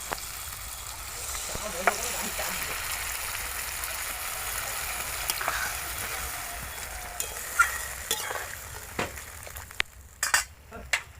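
Water is poured into a pan of potatoes frying in spices: a quiet, steady sizzle and bubbling with faint clinks and stirring knocks that grow more frequent toward the end.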